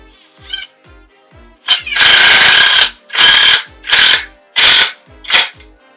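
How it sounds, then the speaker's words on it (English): An impact driver drives a screw into a wooden cornhole board frame: five or six loud, close bursts of rapid hammering clatter, each a second or less, separated by short pauses as the trigger is released. "I'll just take my screw here. And then this is my little impact gun. Then we'll just send her down."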